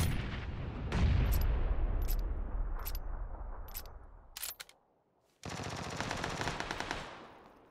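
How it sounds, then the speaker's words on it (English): Gunfire in the video game PUBG on Xbox One: a sustained roar of automatic fire with sharp repeated cracks, a short lull, then another dense burst of rapid shots, loud and close. "Were you shooting at somebody?"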